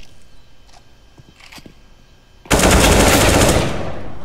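Sudden loud burst of video game gunfire, sustained automatic shots, after a quieter stretch with faint clicks and footsteps; close and dominant until the end.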